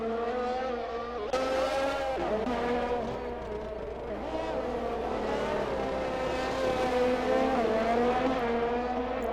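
Race cars lapping a track in a racing video game set in Azerbaijan, with several engines droning and revving continuously and overlapping as they pass, under a steady low mechanical hum.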